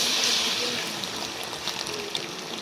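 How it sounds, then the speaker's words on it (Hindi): A thick haleem mixture of pressure-cooked grains and lentils poured onto shredded chicken in a bowl, a steady close liquid gush that eases into a softer trickle with a few wet plops. "ये मैंने सारा जो मिक्सचर है वो डाल दिया है"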